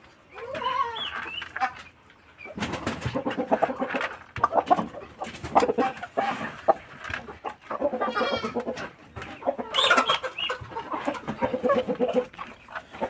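Backyard chickens cluck and squawk busily at feeding time, a dense, close chorus of overlapping calls rising and falling throughout, with no talk.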